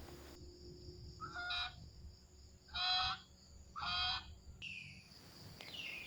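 A swan goose kept as a pet gives three separate loud honks, spaced a second or so apart over a low steady background hum.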